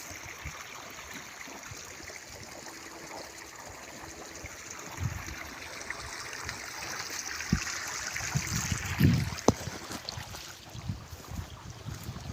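Irrigation water running through a farm channel beside an onion field, a steady close trickling and rushing flow that swells briefly near the end, with a few small knocks and no voices.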